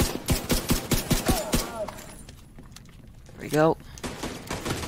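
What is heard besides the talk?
gunfire from the video game The Division 2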